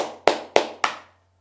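Three sharp hand claps, evenly spaced and close, each ringing briefly before a quiet tail.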